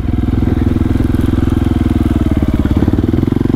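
A motorcycle engine runs close and loud with a fast, even, throbbing pulse, holding steady throughout.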